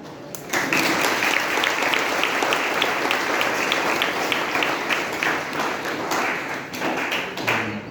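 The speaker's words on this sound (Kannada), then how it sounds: "ನೀವು ಜೋರು ಚಪ್ಪಾಳೆ ಹೊಡಿಬೇಕಿತ್ತು" An audience at a motivational talk breaks into sustained applause, a dense, steady patter of many hands clapping that holds loudly and evenly from start to finish with no speech over it.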